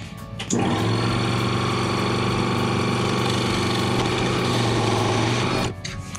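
A power tool cuts a wooden dowel into pegs for drone race gate bases, with a loud motor whine starting abruptly, holding steady for about five seconds, then stopping.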